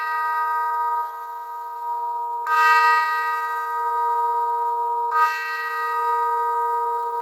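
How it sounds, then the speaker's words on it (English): Clock tower bells toll in two resonant strikes a few seconds apart, each ringing out with a long, sustained hum that lingers between strikes. "The bells of the toll clock began to sound."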